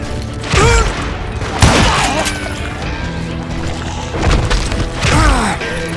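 Gunfire in the Western shooter game Call of Juarez: Gunslinger, heavy booming shots and crashes bursting out over dense game sound effects and music, loud and close throughout.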